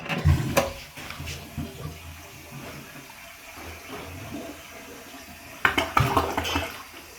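An apartment toilet flushing during a clog test, water gurgling and rushing with clinking bursts at the start and again near the end, close and moderately loud.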